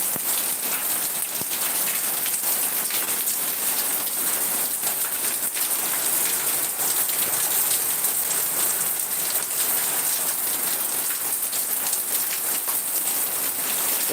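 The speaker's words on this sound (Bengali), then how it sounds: "প্রচুর পরিমাণে বৃষ্টি হয়েছে যে পানি সব জমে যাচ্ছে" Heavy rain falls steadily on surfaces nearby as a dense, even hiss that holds unbroken throughout, with no voices.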